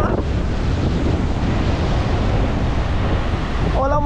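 Strong sea waves crash continuously onto a rubbish-strewn shore in rough weather, a loud, dense roar of surf mixed with wind buffeting the microphone and no pause.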